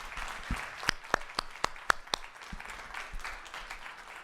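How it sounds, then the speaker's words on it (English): A small audience at an LGBTQ+ summit of municipal leaders gives a thin, scattered round of handclaps, with a few sharp individual claps standing out over a quiet room. "Let's give a round of applause to all the speakers."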